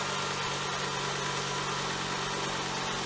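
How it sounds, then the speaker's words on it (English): A Volkswagen Rabbit/Golf 2.5 five-cylinder engine holds a steady cold-start high idle, a continuous close-miked hum with even vibration and no talking. "We'll just wait for that cold start high idle to settle down there in a second."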